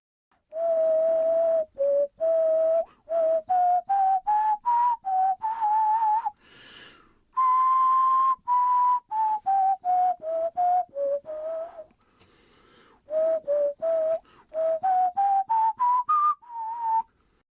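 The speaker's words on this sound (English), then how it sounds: "There's a main tune, kind of like a leitmotif of the film. I'm gonna whistle it now" Solo whistling of the main theme from the 1998 film Merlin, a clear, wavering melody in phrases with short pauses, fairly loud and close, with no other voices.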